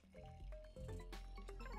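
Water pours into a glass for a berry protein snack drink, a short, faint trickle and gurgle with tonal filling notes rising as the glass fills.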